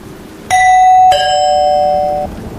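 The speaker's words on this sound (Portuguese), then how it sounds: "o som da campainha ecoou pela casa" A two-tone doorbell chimes through a house, a bright first note followed by a lower second tone that rings on and slowly fades, loud and close with no other sound.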